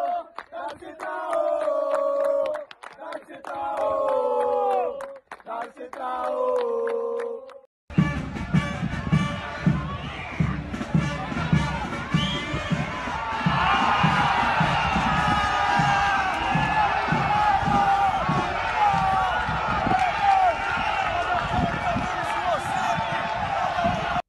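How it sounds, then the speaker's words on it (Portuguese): Central supporters at Artuzão stadium celebrate with the Patativa players after a Pernambuco championship semifinal, a loud, sustained crowd roar of cheering and chanting, preceded by a few seconds of tonal, voice-like sound. "a torcida do Central, que compareceu e comemorou junto com os jogadores da Patativa"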